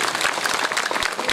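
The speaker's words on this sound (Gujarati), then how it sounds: "જોરદાર તાળી" An audience at a live Gujarati devotional stage performance breaks into loud, sustained applause, dense rapid clapping filling the whole moment.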